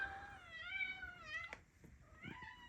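A house cat meows close by in a long, wavering call, followed by a short sharp noise and a second briefer meow, fairly quiet against a still room.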